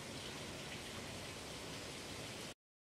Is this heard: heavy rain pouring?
yes